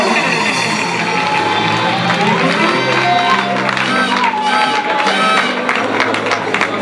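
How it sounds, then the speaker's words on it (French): A church congregation cheers, claps and shouts together in a dense, sustained wall of crowd noise at a night-time miracle service in Paris, with voices rising and falling throughout. "Pendant qu'il avance, acclamons encore."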